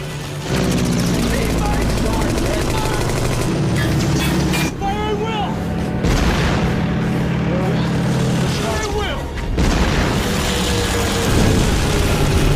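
German fighter planes attack a PT boat in a war film trailer, with a dense, continuous engine roar and rumbling blasts throughout, while voices speak over the din.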